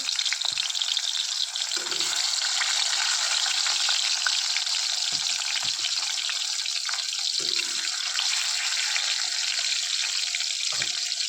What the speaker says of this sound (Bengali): মাছগুলা বেজে নিচ্ছি একে একে হলুদের গুঁড়া আর লবণ মেখে নিয়ে দিয়ে দিলাম তেলের মধ্যে